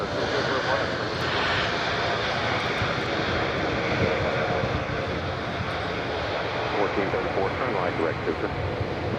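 A Spirit Airlines jet at Nashville's airport gives a loud, steady engine roar that fills the whole stretch without a break, with faint voices partly buried underneath.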